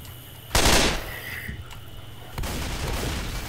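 Gunfire from a weapon in Left 4 Dead 2: a loud sharp burst of shots, followed by quieter game noise and a second, softer burst of rapid firing.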